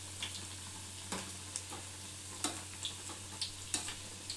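Moong dal garelu, lentil fritters, fry in oil with a soft, steady sizzle, broken by occasional light scrapes and taps of a utensil; quiet and close, with no talking.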